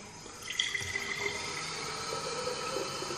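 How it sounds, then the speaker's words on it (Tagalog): Water pours steadily into a room fragrance diffuser, making a soft, continuous trickling stream that runs quietly for a few seconds. "lagyan natin siya ng tubig"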